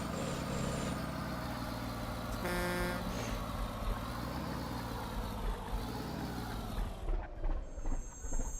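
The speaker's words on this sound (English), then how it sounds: "That's a good example of this engine mod right there. It sounds good too. That audio is part of the pack." A modded truck engine in American Truck Simulator drones steadily and loudly throughout, a dense continuous rumble with a brief tonal whine partway through and the sound thinning near the end, with no talk over it.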